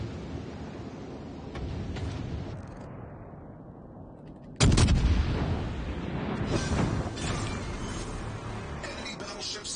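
Battleship secondary guns firing in the naval game World of Warships Legends, heard as a sudden loud blast followed by sustained rumbling gunfire and dense booming bursts, preceded by steady background engine-like noise.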